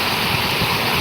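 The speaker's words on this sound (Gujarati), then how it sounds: "જુઓ કેવો વરસાદ" A heavy unseasonal summer downpour at a farm in Chavand, Gujarat, makes a dense, loud, continuous roar of rain with no pauses or talk.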